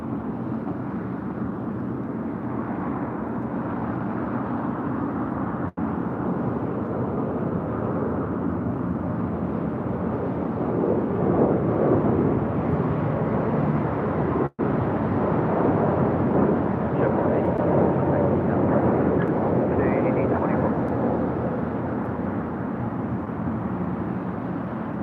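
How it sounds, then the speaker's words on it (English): A JetBlue Airbus A321 takes off from runway 25 right at LAX, a steady, loud, broad jet roar that swells and holds for the whole stretch without clear speech over it. "So we do have a JetBlue A321 now rolling down."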